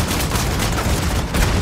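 Dense, continuous gunfire from the online shooter game Paladins crackles without pause, loud and close, with no talking over it.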